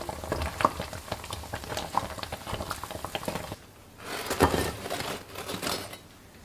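Youtiao dough sticks deep-frying in hot oil over medium-high heat, a dense crackling sizzle that runs steadily, drops briefly to a quieter hiss, then swells again with bursts of bubbling.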